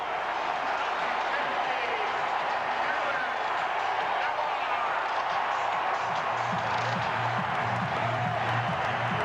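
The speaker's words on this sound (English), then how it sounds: "Ortiz will get the hero's welcome as he heads back to the dugout for the big crowd at Fenway" A big Fenway Park crowd at an ALDS playoff game roars and cheers steadily as David Ortiz returns to the dugout, a dense, sustained wash of noise with a broadcaster talking over it.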